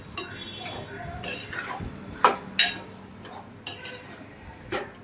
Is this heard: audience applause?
no